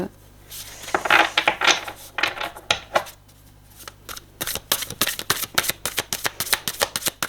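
Tarot cards are shuffled by hand up close. Irregular riffling bursts give way to a rapid, steady run of crisp card slaps toward the end, with no speech.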